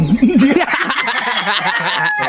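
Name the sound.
chickens clucking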